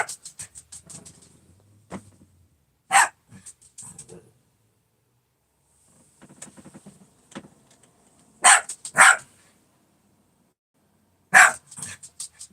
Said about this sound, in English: You just barking at random noises now?